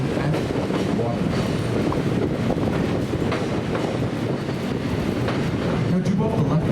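Southern 630 train rolls across a bridge over South Chickamauga Creek, a steady dense rumble and rattle of wheels and cars throughout, with faint clicks over the continuous noise.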